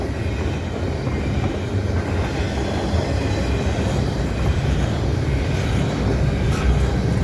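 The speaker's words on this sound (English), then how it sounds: "Some people don't like double stacks, but I still say they're more interesting" A heavy double-stack container freight train rumbles past close by in winter, a steady low roar of rolling wagons with faint metallic squeals now and then.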